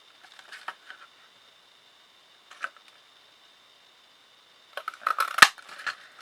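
A 1¼-inch paper circle punch cuts a shape from card. Sparse, close clicks and small handling sounds lead up to a sharp crunch and snap of the punch near the end, with near silence between.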